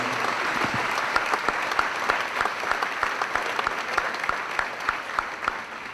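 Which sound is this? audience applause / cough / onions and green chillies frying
audience applause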